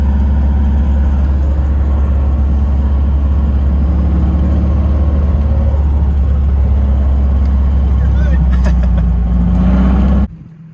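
A salvaged Nissan 350z drift build drives slowly at low speed, its engine a loud, steady, close rumble with slight rises in revs, cutting off abruptly near the end.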